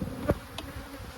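Honeybees from an abandoned hive buzz faintly around a box, with a soft insect drone and one brief louder buzz as a bee passes close, no voices.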